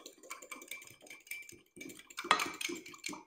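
A spoon scrapes and clinks through couscous in a pan with halloumi and almonds, making soft, uneven stirring strokes up close and fairly quiet.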